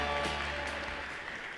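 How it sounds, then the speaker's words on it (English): An audience at a corporate tech event in Thailand applauds continuously, a broad wash of clapping that holds steady and then eases slightly toward the end. "Big round of applause."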